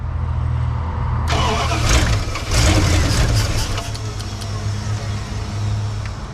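A Dodge Ramcharger engine cranks repeatedly without catching for lack of fuel, a loud rough grinding churn that starts abruptly and runs on with uneven surges.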